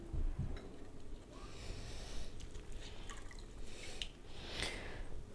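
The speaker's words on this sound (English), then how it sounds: "I gotta get some of this water out of the bottom" Water is emptied from the bottom of a pottery piece, with soft dripping and splashing liquid sounds running steadily at low level across the whole stretch.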